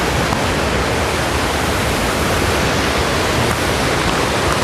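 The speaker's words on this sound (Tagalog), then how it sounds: "Ang lakas ng agos dito guys." Strong river current in Nagcarlan rushing loudly and steadily throughout, a dense, close roar of fast-flowing water with no pauses.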